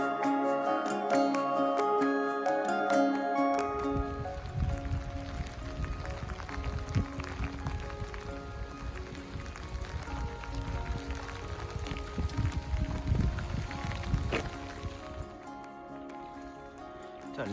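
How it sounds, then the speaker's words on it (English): Rain falls on a coastal footpath between Flushing and Mylor in Cornwall as a steady, close patter and hiss, following a brief opening of tonal sound. "It is raining at the moment, but you know, first walk in the rain"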